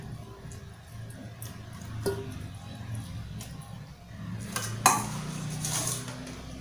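A cooking pot clinks and scrapes while Isan-style steamed bamboo shoots with pork belly are prepared, with a sharp knock midway and a louder metallic clatter later over faint kitchen background noise.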